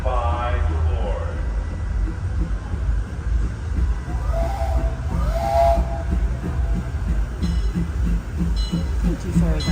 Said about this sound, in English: Disneyland Limited, now arriving from a trip around Walt Disney's Magic Kingdom.